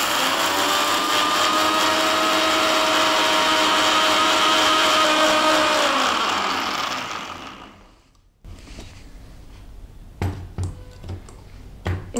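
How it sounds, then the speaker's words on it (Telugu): A kitchen mixer grinder whirs steadily as it grinds sugar with dry fruits into thandai paste, a loud continuous motor whine that winds down and stops, followed by a few faint clinks and knocks. "షుగర్ యాడ్ చేసి మళ్ళీ గ్రైండ్ చేసుకోవాలి."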